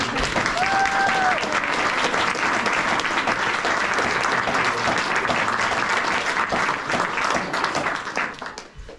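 Wedding ceremony guests break into loud, dense applause with a few cheers, sustained steadily before fading out near the end.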